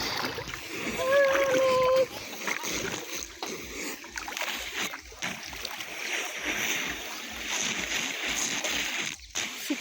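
Water splashes and sloshes in a swimming pool fed by a hot spring, a steady wet wash with people talking and calling over it throughout.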